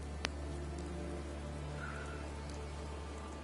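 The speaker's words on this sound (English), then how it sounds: "It's raining." Steady rain falls in a game scene as evening darkens, a soft constant hiss over a low hum, broken once by a brief sharp click near the start.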